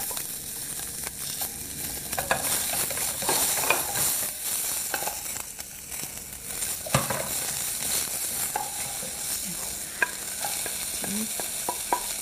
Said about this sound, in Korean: 당근, 샐러리, 양배추도 같이 넣어서 볶겠습니다